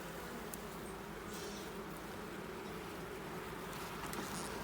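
Honey bees swarm around an open beehive during an inspection of a new nuc, a soft, continuous buzzing hum close by, with a few brief louder passes as individual bees fly near.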